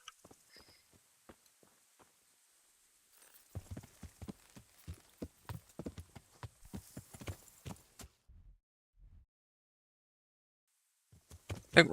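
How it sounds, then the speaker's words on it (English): Video game horse hooves clip-clop in a steady walking rhythm, with a quiet pause between, then a faster run of clattering steps before fading to near silence. "Horse."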